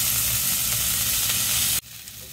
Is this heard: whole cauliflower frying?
yes